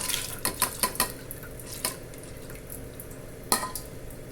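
Washed split moong and urad dal going into a pressure cooker for sambar, heard as a handful of light metallic clinks and taps against the pot with faint dripping and rustling between them.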